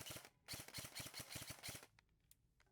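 A Poseidon Theseus airsoft rifle fires a fast burst of sharp, snappy shots in a close rhythmic string, then stops, leaving a few faint mechanical clicks and handling noises afterward.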